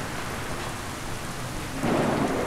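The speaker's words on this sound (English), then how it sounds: "It's been raining for the last hour. It's quite heavy now." Heavy rain beating down steadily as a dense, continuous hiss, swelling louder near the end, with a low rumble of thunder beneath and no voices.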